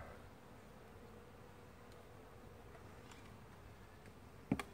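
Faint, steady hum of honeybees around an opened backyard hive on Cape Cod, a soft continuous drone in the background with a brief knock near the end.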